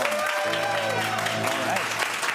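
A live show audience claps loudly and continuously to vote for a film, the dense applause blended with a steady tonal backing throughout.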